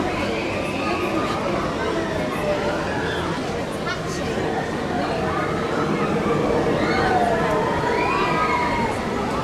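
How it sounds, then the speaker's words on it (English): Crowd of onlookers gathered at Alton Towers to watch construction of the Nemesis roller coaster, a steady outdoor wash of chatter, distant voices and occasional shouts, with no single sound standing out. "Fantastic crowd down here now as well watching this, which is good to see."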